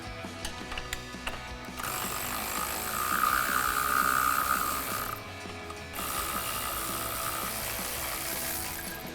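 A ratchet works on the 18mm shock absorber bolts of a Jeep Wrangler JL during a Teraflex shock install, giving a steady clicking pawl whir in fairly quiet bursts with short pauses between, and no talking.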